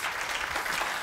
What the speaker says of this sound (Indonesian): Boleh tepuk tangan bagi Tuhan kita?